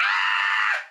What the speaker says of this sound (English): She's just screaming every minute.